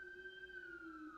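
An emergency siren outside, a faint, steady wailing tone that slowly falls in pitch, heard alone from a distance without any talk.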